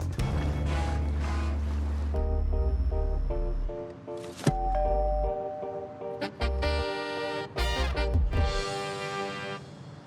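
A water taxi moves across open water in Southwest DC, its engine rumbling low and steady beneath wind and splashing waves, with creaks and bumps near the middle and a hiss of spray toward the end.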